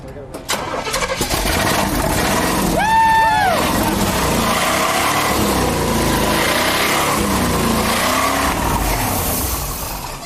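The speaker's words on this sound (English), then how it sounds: "I'm so proud of your engine working." A scrapheap-built jumbo truck engine cranks and fires into a loud, steady running roar that continues to the end, with a whining tone rising briefly early on and voices talking over it.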